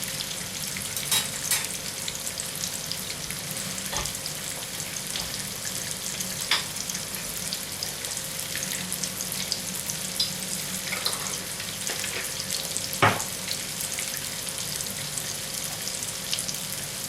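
Washed rice frying in ghee with turmeric and curry powder, with a steady close sizzle over the whole stretch and occasional stirring clinks and scrapes.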